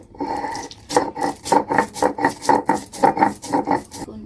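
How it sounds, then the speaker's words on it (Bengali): Cumin and coriander being ground together on a grinding stone, a rhythmic series of about a dozen close, loud rasping scrapes in a steady back-and-forth pattern, with no talking. "জিরে ধনে একসাথে বেটে নিচ্ছি"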